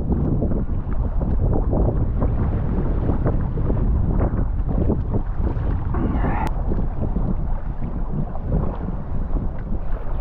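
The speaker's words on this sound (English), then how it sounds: "Really lovely paddling when it's like this. Kind of just surf along." A kayak paddles downwind on Loch Sween, surfing along the water; heavy low wind rumble buffets the microphone throughout, with water wash and faint paddle splashes beneath it.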